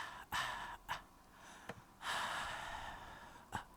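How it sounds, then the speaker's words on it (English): Sampled breathing sounds used as percussive accents in a music production: short sharp inhales and gasps, several bursts spaced irregularly, close and fairly soft, with no talking. "She also had this great idea of these breathing bits up here"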